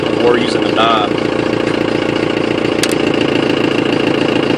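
Diesel engine idling with a Holset HE351VE turbo whose vanes and exhaust brake are fully closed, giving a steady loud droning rumble with a constant hiss and whistle, plus a short chirping burst near the start.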